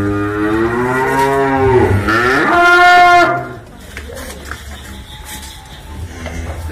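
Limousin cattle calves moo loudly up close, giving one long rising and falling bellow, then low rustling and distant farm noise follow.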